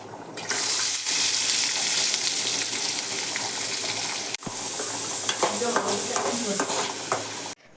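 Cumin and mustard seeds crackle and sizzle in hot oil as onion and tomato go into the pan, giving a loud, continuous frying hiss with stirring scrapes and a brief break partway through.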